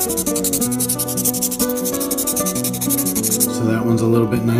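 Coarse sandpaper, roughly 100 to 180 grit, rubs back and forth over a guitar fretboard in quick steady strokes, with a continuous musical backing playing loudly underneath.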